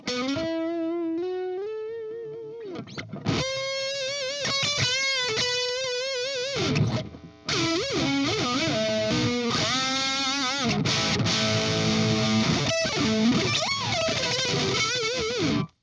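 Clean electric guitar, a Claro Walnut PC1 through its sustainer pickup, with long sustained notes and swelling harmonics, then denser chords and bends that ring on continuously.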